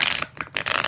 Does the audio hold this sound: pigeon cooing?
no